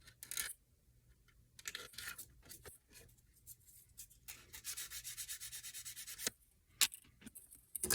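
A nail file sanding down a small workpiece, heard as repeated dry rubbing and scraping strokes, close and fairly quiet, with short pauses and a few sharp ticks between bursts and no talking.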